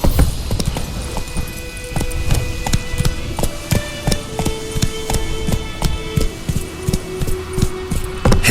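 Horse hooves clip-clop steadily in The Witcher 3, a brisk run of sharp knocks over a faint tonal backdrop, close and continuous.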